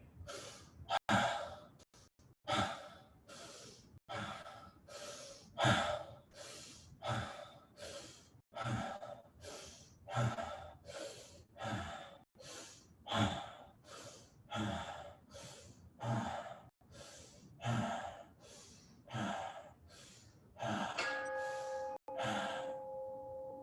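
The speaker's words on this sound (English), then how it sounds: "focus on relaxing as you're getting the most amount of air on the inhale and letting the exhale happen naturally." A person does a fast breathing exercise with deep inhales and exhales. About thirty steady, evenly spaced breaths are heard up close, each a rush of air, quickening slightly near the end.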